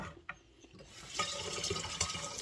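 Water poured into a spray mixture for weeds on a patio, a close, soft, continuous splashing and trickling that begins after a brief knock and keeps running steadily.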